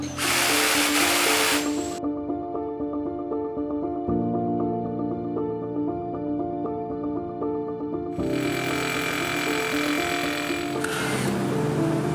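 A power drill bores holes for air conditioner pipe hanger brackets, starting with a loud grinding burst, then settling into a steady whining motor tone that shifts pitch midway before the harsh grinding returns near the end.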